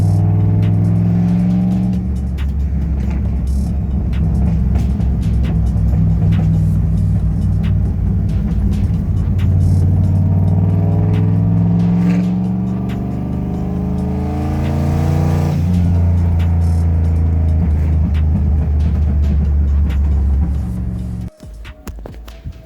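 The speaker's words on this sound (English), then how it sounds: "she's been popping and crackling like no tomorrow" A big-turbo Ford Edge engine revs hard and loud up close, with repeated rising and falling sweeps of the engine note and sharp pops and crackles from the exhaust, before cutting off abruptly near the end.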